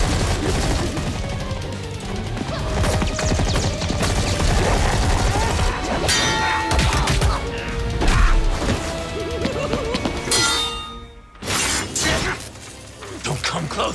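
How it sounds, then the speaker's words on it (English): Rapid bursts of gunfire and crashing impacts from a fight scene in the animated show RWBY, loud and dense over about fourteen seconds, mixed with shattering sounds and music, with voices speaking over the action. "Oh, and it's a gun."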